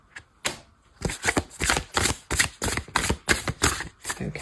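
Tarot cards are shuffled by hand in a rapid run of crisp riffles and slaps, close and fairly loud, with no talking.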